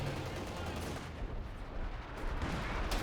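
Artillery barrage in the game Company of Heroes 2: a continuous rumble of distant shell impacts and gunfire rolls throughout, swelling slightly toward the end, with faint voices mixed in.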